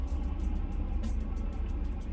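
Road traffic rumbles around a moving vehicle heading back from a road paving job, a steady low engine and tyre drone with faint higher whooshes, continuous and fairly close, with no talking.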